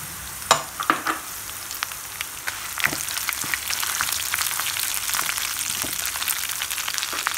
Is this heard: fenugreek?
yes